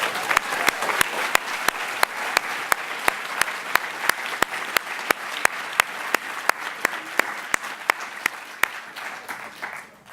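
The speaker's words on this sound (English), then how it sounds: "Can we give him a round of applause?" An audience at a panel event breaks into sustained applause, a dense, steady patter of many hands clapping that fills the room and fades slightly toward the end.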